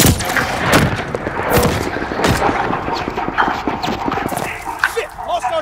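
In a Call of Duty: Vanguard battle, a dog barks amid loud, rapid gunfire and explosions. The clamour is dense and close, and a voice talks over it throughout.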